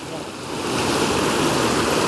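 River water flowing steadily over rocks outdoors, a broad continuous rushing wash that swells slightly louder after the opening moment and holds steady, with no talk.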